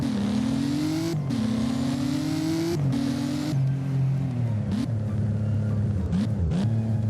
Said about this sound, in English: the best sounding car from this brand is a TVR Subaru Speed 12.